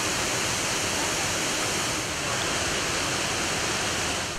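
Sızır Waterfall pours in a steady, dense roar of falling water amid autumn-yellowed oak forest, a broad continuous rush with no pauses, close and loud throughout.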